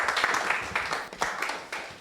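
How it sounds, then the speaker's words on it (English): Audience applause at the launch of a family fun run as new run T-shirts are presented, a steady patter of clapping with periodic bursts over about two seconds. "Let's give them a round of applause as they present the T-shirts"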